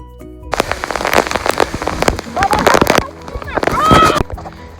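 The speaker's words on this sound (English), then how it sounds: "so we just got caught in a hailstorm on our last half a mile" Hail strikes hard and fast in a dense rattling patter on a mountain hiking trail, loud and close, with people's voices breaking in between bursts.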